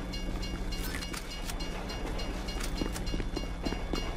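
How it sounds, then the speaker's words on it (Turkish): Train in the video game GTA V rolling past close by, a continuous rumbling stream of rail clatter and metallic clicks with faint game ambience underneath. "Arkası kesilmeyecek sanırım bu treni."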